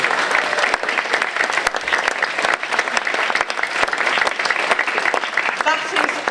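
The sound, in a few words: audience applause at carers conference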